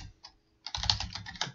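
Typing on a computer keyboard at a command line: a short pause, then a quick close run of clattering keystrokes, crisp and moderately loud, with no talk.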